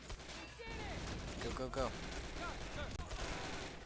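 Dense, continuous gunfire and explosions in the World War II strategy game Men of War Assault Squad 2, with volleys of rifle and machine-gun fire crackling throughout while a voice shouts over the battle.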